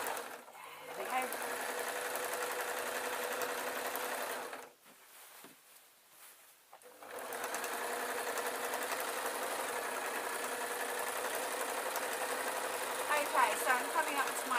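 A sewing machine stitches a quilt in a steady fast whir, pausing briefly midway before running on, with faint clicks near the end; nearby and moderately quiet.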